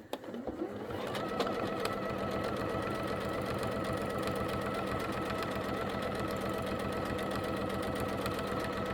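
A sewing machine doing free motion couching quilting starts up after a few clicks and then runs in a fast, steady, rhythmic whir, close and continuous for several seconds.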